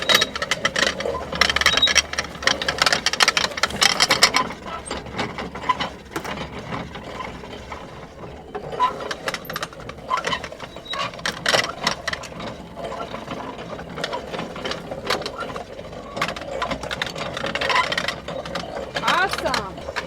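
A hand-cranked apple cider press on a hobby farm makes grinding, clattering mechanical rattles and ratcheting clicks that rise and fall with the cranking, under talk from several people.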